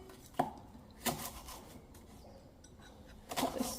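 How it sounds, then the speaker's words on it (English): Knife roughly chopping food on a cutting board while making homemade flour tortillas, a few distinct close thuds spaced apart and a quick double chop at the end. "Roughly chop and pop that in."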